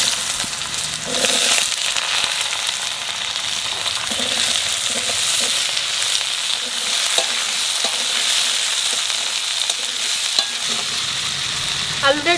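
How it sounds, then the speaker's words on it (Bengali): Nigella seeds and two dried chillies fry in hot oil in a home kitchen, giving a loud, close, continuous sizzle with occasional stirring scrapes and crackles, and no talking. "তেলের উপরে দিয়ে দেবো কটা কালো জিরে"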